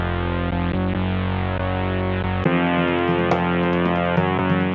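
A heavily distorted sine wave synth bass plays as a loud, buzzing, harmonically rich tone. It holds, changes pitch midway, and continues with light percussive ticks on top.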